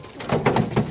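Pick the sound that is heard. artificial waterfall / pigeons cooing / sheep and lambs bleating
pigeons cooing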